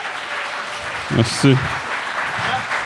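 An audience in a comedy bar applauds a comedian with a steady wash of clapping, while a voice speaks briefly over it.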